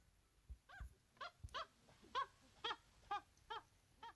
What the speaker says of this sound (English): It's a monkey.